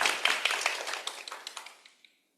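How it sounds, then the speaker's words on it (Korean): Applause from a small audience at a peace workshop presentation, a few scattered claps at close range that thin out and stop within about two seconds. "박수."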